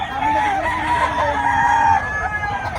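Roosters and chickens at a chicken market in Bocaue, Bulacan: a loud, close rooster crows in a long drawn-out call, with clucking fowl around it.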